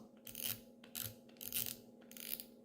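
A small fishing reel's drag is loosened, giving bursts of fine ratchet clicking in four short rhythmic runs, close and fairly quiet, with a steady low hum underneath.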